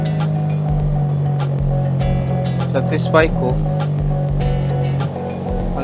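A 2014 Raider 150 motorcycle engine idles steadily close by after a clutch lining replacement, a constant low hum with a brief rise, while someone talks over it.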